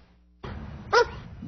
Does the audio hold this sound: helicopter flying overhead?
no